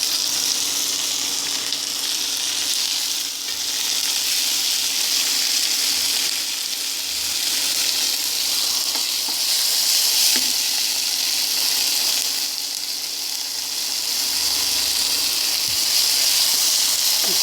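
Tomatoes and fresh mint hit a hot masala of reddened onion, ginger, garlic and green chili for a dhaba-style taro root curry, producing loud, steady sizzling and frying that holds strong throughout.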